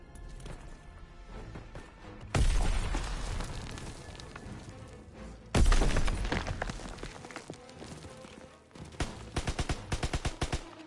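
Grenade explosions in a WW2 shooter game hit as two loud, sudden booms with long rumbling, crackling tails, followed later by a flurry of sharp gunfire.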